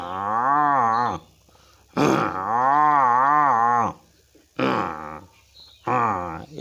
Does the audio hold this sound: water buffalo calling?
yes